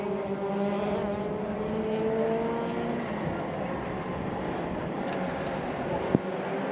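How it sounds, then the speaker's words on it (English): World Touring Car Championship race cars in Mexico streaming out of the final corner toward a race start, overlapping engine tones rising and fading at a distance, with a commentator talking over them. "The field comes out of the final corner, ready for the start of race 3 of the World Touring Car Championship"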